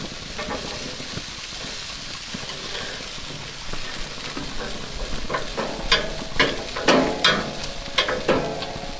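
Ribs sizzle on a grill as they are turned over, with a steady frying hiss and a series of sharp metallic clicks and scrapes from tongs, growing busier toward the end.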